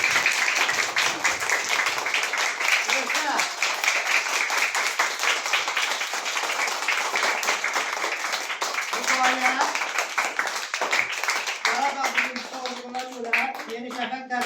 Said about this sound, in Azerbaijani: Mən sizin alqışlarınızla Rüqayyəni bura dəvət edirəm.